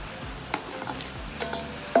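Pork belly with green curry paste, fish sauce and palm sugar stirred in a hot pan: a low continuous sizzle with soft periodic scraping strokes of the spoon, close and without speech.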